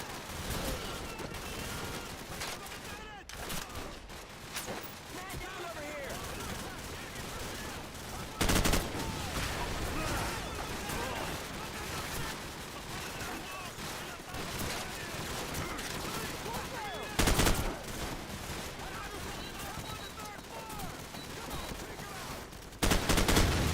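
Continuous gunfire from a video game shootout, bursts of machine-gun and rifle fire rolling on throughout, with a few louder sharp blasts standing out and a voice talking now and then over the battle.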